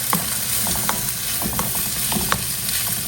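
A diced yellow onion fries in a pan with salt while being stirred. There is a steady, close sizzle with repeated scraping and stirring clicks and no talking.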